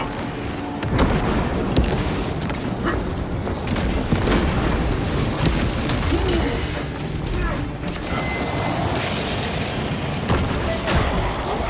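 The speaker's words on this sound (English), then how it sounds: "Crack grenade out!" Grenade blasts and heavy gunfire from a Warhammer video game, a dense, loud barrage of booms and shots rumbling without pause throughout.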